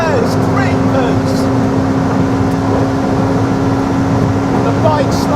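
A racing motorbike and a McLaren P1 car pass on a BMW track day, a steady loud engine roar with rising and falling whine, heard from inside a car at speed with no talk.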